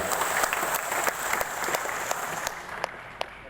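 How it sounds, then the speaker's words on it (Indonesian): Audience at a formal anniversary ceremony for the Batam authority bursts into applause, a full, steady roll of many hands clapping that thins toward the end, leaving a few scattered claps. "Tepuk tangan buat beliau."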